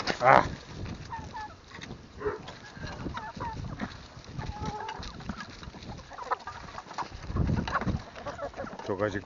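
Farm fowl including a turkey gobble and cluck close by on a windy farm, their calls scattered across the recording with a person talking among them.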